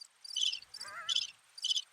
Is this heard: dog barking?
no